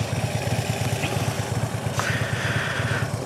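A motorcycle engine idles steadily in first gear with the clutch pulled in, a close, even low-pitched thrum that runs for a few seconds with no talking.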